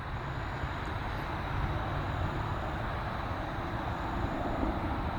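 A steady low rotor-like drone of a helicopter passing overhead at a distance, continuous and broadband throughout.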